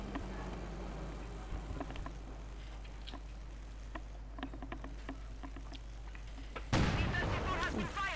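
Artillery and heavy mortar fire in the strategy game Company of Heroes 2 comes as scattered distant thumps and crackles over a low rumble, ending in a louder burst near the end.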